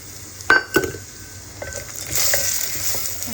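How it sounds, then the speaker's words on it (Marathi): Dry fruits dropped into about two teaspoons of hot ghee in a saucepan give a couple of sharp clinks against the metal, then a soft, close sizzle that builds and keeps going. "त्याच्यामध्ये हे ड्रायफ्रूट घालते मी."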